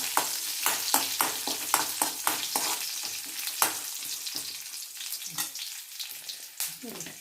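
Garlic sizzling in hot oil while being stirred in a pan for a love lolikka pickle, close bright frying hiss punctuated by rhythmic scraping stirs, with no one talking.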